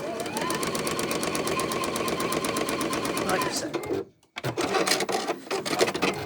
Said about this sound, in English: Whip over to your sewing machine and you stitch these together using a 1/4 inch seam.